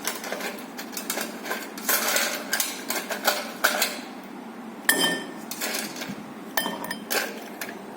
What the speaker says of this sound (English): So you will put as much as ice as you can.